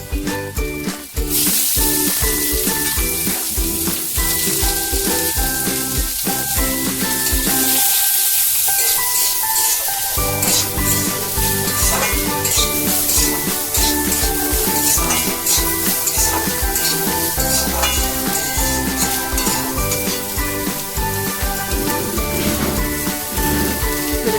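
Green chillies and onions sizzle in a little oil in a pan, a dense, steady frying hiss that runs loud and continuous throughout, with scattered crackles and scraping stirs and a brief dip in the low clatter partway through.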